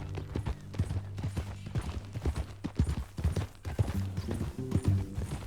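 Hooves of horses in the video game Red Dead Redemption 2 clip-clop in a steady trotting rhythm, close and continuous over a low hum of game sound.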